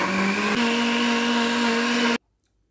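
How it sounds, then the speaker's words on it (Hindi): Bananas and mango are ground into a milkshake in an electric blender, which gives a loud, steady whirring hum that shifts pitch briefly and then cuts off abruptly, leaving near silence. "बंद करके अच्छी तरह इसको ग्राइंड करना है।"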